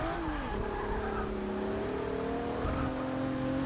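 A race car engine in Forza Motorsport 6 drones steadily on track, its pitch sliding and shifting between gears, with a faint tire squeal, moderately quiet and continuous, no talking.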